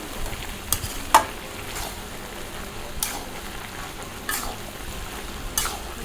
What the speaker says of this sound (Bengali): এদিকে আমার লাউটা প্রায় অনেকটা কষানো হয়ে গেছে, কষাচ্ছি আমি আস্তে আস্তে